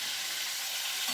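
Prawns frying in oil in a kadai, a dense steady hiss and sizzle filling the short stretch at close range, no voices.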